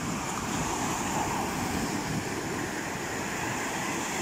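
Steady, continuous roar of Pacific Ocean surf along the shore in the early morning, broad and unbroken, mixed with wind buffeting the microphone.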